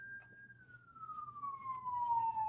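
Police siren in a city neighborhood, one steady wailing tone that slowly falls in pitch as it passes at moderate distance and grows a little louder toward the end, over low background rumble.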